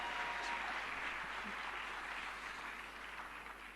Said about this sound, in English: let's give a bigger round of applause to them